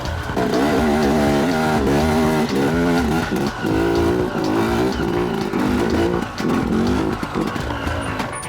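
A KTM Freeride 250R enduro motorcycle ridden hard, its engine loud and close, revving up and down in repeated surges with brief drops between throttle bursts.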